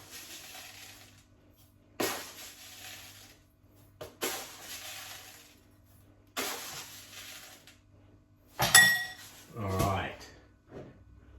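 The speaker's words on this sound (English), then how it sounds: "Let's start with some couscous. I do 5 scoops." Couscous scooped into a measuring dish in a home kitchen, with about five distinct scrapes and pours spaced a couple of seconds apart, followed by a brief clink and some low handling noise near the end.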